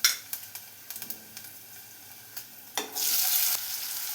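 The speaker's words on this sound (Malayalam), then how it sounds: "ഇതിലേക്ക് 2 സവാള സ്ലൈസ് ചെയ്ത് വെച്ചതും കൂടെ ചേർത്ത് കൊടുക്കാം." Sliced onions and garlic hit hot oil in a pan for a brinjal side dish and burst into a loud, steady sizzle, following a few light clinks of utensils against the pan.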